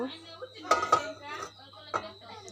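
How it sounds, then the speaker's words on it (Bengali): A karahi is set onto a stove in a home kitchen, with a few brief metallic clanks and knocks heard up close beneath a speaking voice. "আমরা এখন চুলায় চলে যাব একটা কড়াই বসিয়ে দিব"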